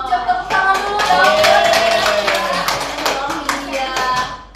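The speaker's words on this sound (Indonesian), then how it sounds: "ucap tepuk tangan dulu dong" Children in a classroom clap for a student's answer during a practice teaching lesson; a brisk, sustained patter of small hands, with voices and chatter mixed in underneath.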